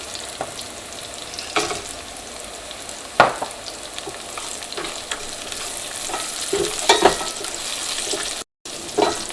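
Onions with whole garam masala and cashews frying in a pan, a soft steady sizzle broken by scraping stirs and light clinks, heard close and fairly quiet with no talking.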